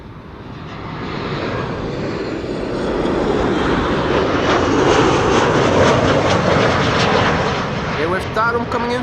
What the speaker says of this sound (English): Here we have Tarom coming in from Bucharest